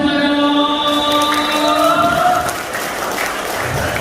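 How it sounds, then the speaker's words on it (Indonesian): Applause from a crowd at a graduation-event stage show, steady clapping joined by a sustained tonal sound that fades out about halfway, then quieter, thinner clapping continues. "kasih tepuk tangan semua dong"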